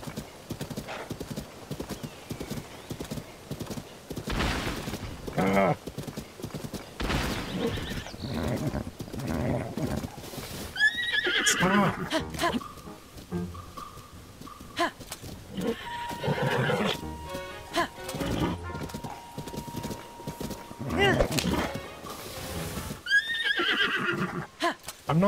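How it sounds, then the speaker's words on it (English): Galloping horse hoofbeats and sharp neighs from a horse ridden through trees in the game Tears of the Kingdom, loud rhythmic clip-clop with several whinnies, mixed with game music and sound effects. "Particularly want to be riding a horse through trees"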